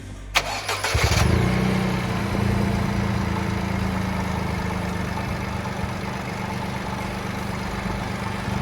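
A Toyota GR Yaris engine with an ITG panel air filter cranks briefly, catches with a rev, then settles into a steady, close idle hum that continues to the end.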